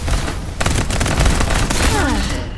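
Rapid bursts of gunfire in the battle royale game Farlight 84, loud and dense, with sustained automatic fire and sharp shots, then rising sweeping electronic tones near the end.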